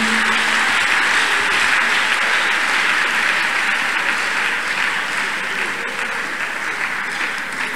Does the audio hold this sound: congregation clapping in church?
yes